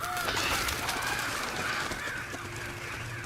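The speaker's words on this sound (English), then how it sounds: "Crow." Crow cawing repeatedly, harsh and fairly close, over a busy outdoor background of other birds and general ambient noise.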